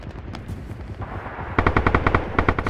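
Semi-automatic rifle fire in a multiplayer shooter video game: after a stretch of scattered distant shots and battle noise, a rapid, loud string of about a dozen close, evenly spaced shots rings out.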